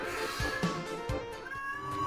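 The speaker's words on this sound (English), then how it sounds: "I apologize if you hear my other cat in the background." A cat meows in drawn-out, wavering cries over a noisy background, the calls rising and falling across the short stretch.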